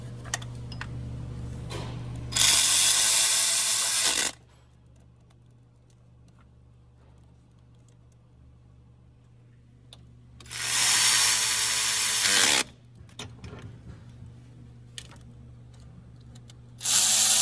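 A ratchet on a Honda 3.5L J35 engine tightens bolts in two close, loud bursts of fast clicking. Quiet gaps with a low hum and faint handling noises fall between them, and a third burst starts at the very end.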